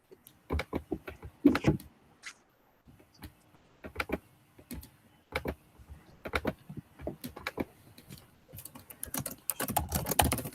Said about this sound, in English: seems like a lot of clicking